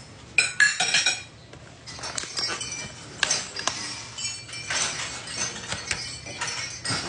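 Food being put on a plate, with sharp clinks and scrapes of cutlery against dishes in quick irregular bursts, close and clear.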